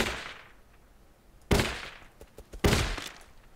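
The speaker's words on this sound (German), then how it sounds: "Drei Schüsse brauche ich also mit diesem Revolver." Revolver shots in the survival video game Rust while hunting for meat: two sharp, loud cracks about a second apart, each followed by a decaying tail, after a fading earlier report, with no talk.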